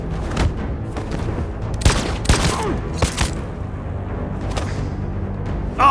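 Gunfire in the video game Detroit: Become Human, a rapid volley of loud, sharp shots with booming impacts, several clustered bursts over a few seconds, close and dominant.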